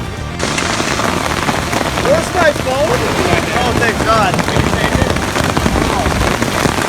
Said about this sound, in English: It's hail and golf balls out here!